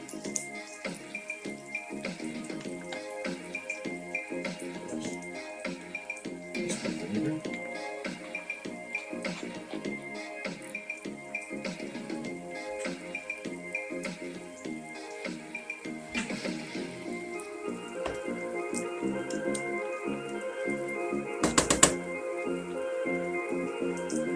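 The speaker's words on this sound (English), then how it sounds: "So I'm just going to saute these. I'm going to add some vinegar." Fish curry ingredients for salmon curry sauté with vinegar in a pan, giving a faint, continuous crackling sizzle with patters and one brief louder burst near the end.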